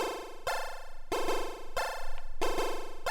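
Chiptune hits sequenced on a Dirtywave M8, panned hard left and right: four bright, buzzy square-wave stabs in a steady pattern, each sustaining with a slight wobble before the next sharp attack, played alone without any voice.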